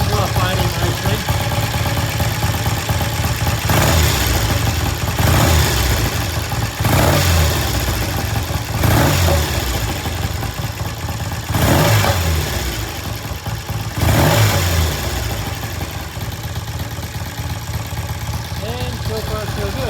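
A vintage British twin-cylinder motorcycle engine idles steadily up close and is blipped off idle several times, each short rev rising sharply then settling back, with a voice speaking over the running engine.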